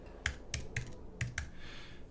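Several quick keystrokes tap on a computer keyboard at close range, about five light clicks in an uneven rhythm over a quiet room.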